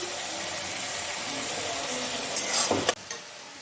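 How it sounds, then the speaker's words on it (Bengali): Onion, garlic and ginger frying in a pan for a Bengali-style broccoli jalfrezi, a steady close sizzle with a brief louder flare and clatter near the end, no talking. "পেঁয়াজ রসুনটা আদা রসুনের কাঁচা গন্ধটা যাতে চলে যায় তার জন্য আমি এটা দু তিন মিনিট ভেজে নিচ্ছি"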